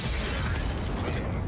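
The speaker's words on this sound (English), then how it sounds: "Throw in the flashbang!" A Counter-Strike flashbang grenade goes off nearby as one loud, sharp burst with a crackling shatter that stays harsh and dense for over a second before it starts to fade.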